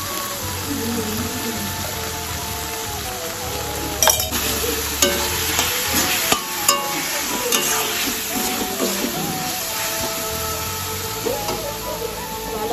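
A spatula stirs and tosses fried rice seasoned with salt and pepper in a hot pan, producing a continuous sizzle broken by repeated scraping and clinking strokes, close and fairly loud.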